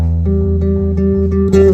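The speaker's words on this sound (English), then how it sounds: "Okay, so I like to play 10ths on the bass a lot." Electric bass guitar plucking a major tenth chord, a low root with a higher tenth ringing over it, struck a few times in quick succession, close and loud.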